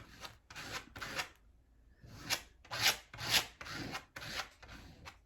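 Stencil brush dabbing One Step paint through a mesh stencil onto a canvas tote bag, a series of soft, close scratchy rubbing strokes in quick bursts with a short pause in the middle.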